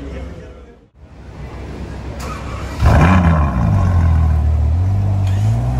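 A Ferrari engine fires up on a street in Cannes at night, a sharp starter whine giving way to a loud, rising roar that settles into a deep, steady idle close by.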